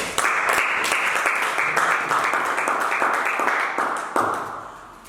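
A church congregation breaks into loud, sustained applause for Jesus, dense clapping close by that swells and then tapers off toward the end.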